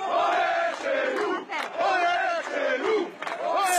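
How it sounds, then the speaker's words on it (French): A crowd of about 600 in the Jardins de l'Empereur district of Ajaccio, Corsica, chants nationalist slogans in loud rhythmic bursts, voices rising and falling together with brief pauses between phrases. "Une foule bien décidée à en découdre et au slogan nationaliste."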